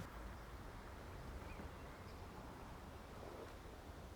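Steady wind rushing across the microphone, a constant low roar with no pauses.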